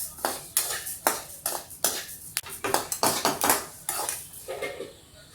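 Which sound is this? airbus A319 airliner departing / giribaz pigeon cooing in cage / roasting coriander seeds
roasting coriander seeds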